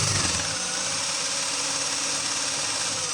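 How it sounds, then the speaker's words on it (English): A small DC motor powered by a single coil generator, running with a steady buzzing whir and a rough rattling hum, constant and close. "You can easily run this DC motor here, just keeping up with it."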